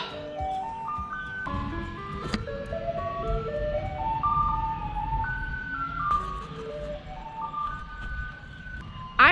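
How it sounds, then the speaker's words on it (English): A garbage truck on Kinmen Island plays its jingle, a loud melodic tune of stepped electronic notes rising and falling in repeated phrases over street rumble, with no speech. "trash truck!"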